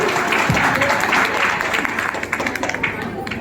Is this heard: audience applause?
yes